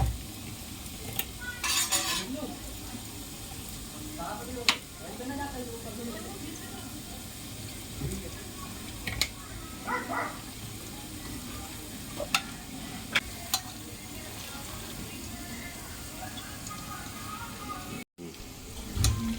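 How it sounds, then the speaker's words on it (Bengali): Raw chicken pieces worked by hand with salt, turmeric, lemon and a little mustard oil, giving soft wet squelching and stirring sounds with occasional clicks and bumps from the bowl, close and fairly quiet. "ভালো করে মাংসটা আমি লবণ হলুদ আর লেবু দিয়ে ভালো করে মাখিয়ে নেব আর অল্প একটু সর্ষের তেল দিয়ে দেবো"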